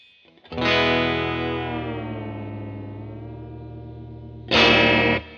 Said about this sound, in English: I don't know how it will sound. And it is really possible that this goes out of tune like instantly